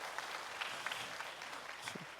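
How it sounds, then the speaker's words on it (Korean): A church congregation applauds, steady clapping from many hands at moderate distance sustained for the whole stretch, with a faint voice briefly near the end. "큰 박수로 격려하도록 하겠습니다"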